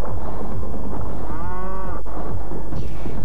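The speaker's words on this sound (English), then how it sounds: "there's a cow bouncing around" A cow bounces around in the video game Jinx and lets out a loud, drawn-out moo that rises and falls, over a dense, rumbling game backdrop with repeated low thumps.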